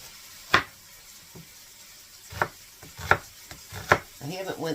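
An onion being chopped on a board, a handful of separate knife thuds spaced irregularly with a quicker run of cuts at the end, faint under a quiet room.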